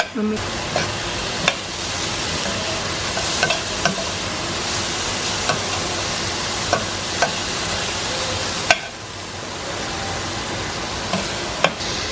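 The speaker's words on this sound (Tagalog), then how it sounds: "So, gigisahin na natin." Ingredients for Filipino kare-kare sauté in a pan with a steady hot sizzle, punctuated by regular clicks and scrapes of a spatula stirring, close and continuous.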